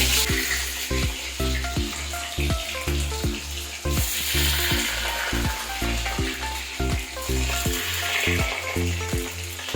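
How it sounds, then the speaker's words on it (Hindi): Rohu fish pieces frying in hot mustard oil, a bright continuous sizzle overlaid by rapid, rhythmic metallic scraping clatter, loud and close, with a brief louder hiss burst near the middle. "सरसों तेल जो है पूरा गर्म हो चुका है, आप देख सकते हैं। और इसमें अभी अब मछली का पीस डालेंगे।"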